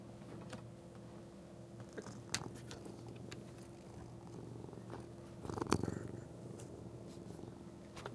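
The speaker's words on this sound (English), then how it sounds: "He is purring like right into the microphone." A cat purrs softly and continuously right up close, with a few faint clicks and taps scattered through it.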